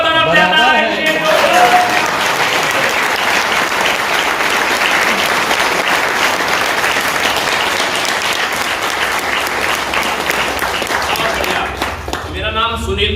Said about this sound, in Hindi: लेकिन ताली दोनों तरफ ज्यादा है